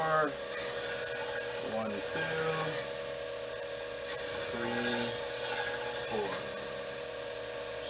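Knife edge sharpened on a 600-grit Trizact abrasive belt, a continuous close hiss and rub of steel on the running belt with a steady machine hum, while a voice counts aloud over it.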